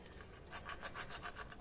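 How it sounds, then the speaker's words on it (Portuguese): A Fiat Uno Economy Mille engine part is sanded by hand. Quick, even, rhythmic scraping strokes are heard close up and alone. "E vai lixando"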